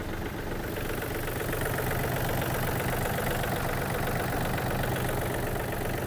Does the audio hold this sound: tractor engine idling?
yes